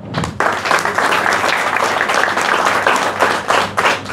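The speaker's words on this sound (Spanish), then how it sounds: "Le damos un aplauso también." A crowd applauds steadily for several seconds at a regional rally event, dense clapping from many hands at close range, after a brief quieter moment at the start.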